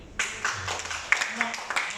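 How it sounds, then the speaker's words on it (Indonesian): Audience clapping at a Kalla Toyota car exhibition in Makassar, a scattered burst of hand claps starting abruptly and continuing unevenly close by, with voices mixed in. "Tepuk tangan lagi dong"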